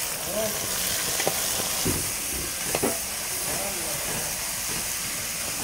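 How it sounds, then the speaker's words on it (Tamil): Mustard seeds sizzling in hot oil for onion kurma, a dense hissing crackle filling the whole stretch with scattered small pops and scrapes, close and fairly loud. "வெங்காய குருமாவுக்கு இந்த போடுறேன் பாருங்கள். கடுகு."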